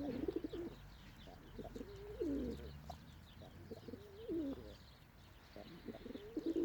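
Several pigeons cooing close by, soft rolling coos repeating in irregular bursts over quiet background noise.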